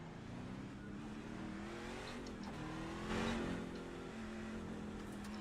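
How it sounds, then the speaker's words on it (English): Race car engine in a NASCAR video game, a steady droning roar with shifting engine tones and a brief louder surge midway, continuous throughout. "I'm not seeing any complaints about engine noise, so I'm assuming we're okay with that."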